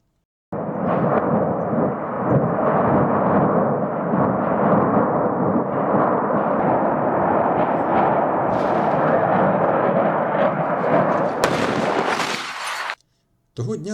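An ammunition depot explodes in a long, sustained roar of heavy blasts and rumbling detonations, loud and continuous, ending with a brief sharp crackle before a short silence.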